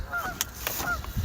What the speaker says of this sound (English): Oh, I've upset the geese with my presence.